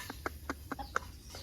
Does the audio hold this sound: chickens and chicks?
yes